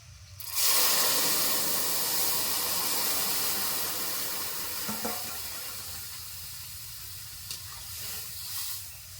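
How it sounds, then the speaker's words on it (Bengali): Cooked dal poured into a pan of egg curry base with ginger and garlic in a home kitchen gives a steady sizzling, watery hiss that starts abruptly and continues loud throughout, with a few faint clinks near the end. "এখন ডালটা দিয়ে দিচ্ছি"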